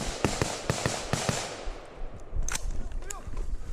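Several sharp rifle shots crack in a quick sequence during a team peel drill, loud and close, followed by more scattered shots and shouting voices.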